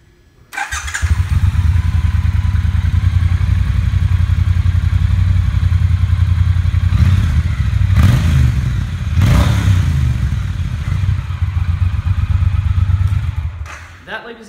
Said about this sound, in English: We'll give the new T120 with the beautiful pea shooter exhaust a start so you can see what your next baby's gonna sound like.